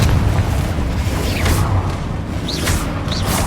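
Spell explosions from Bombarda and Confringo rumble through a Hogwarts Legacy battle, a steady low booming wash with faint whooshing streaks, continuous and loud with no voices.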